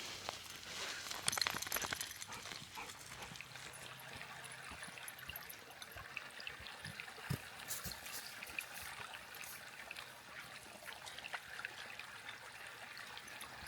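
Creek water trickles at the bottom of a hill near a campsite, a soft, steady, continuous rush with no voices over it.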